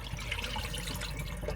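Tap water runs steadily over raw store-bought chicken pieces being rinsed and rubbed by hand in a kitchen for biryani, a continuous close splashing stream with no talking.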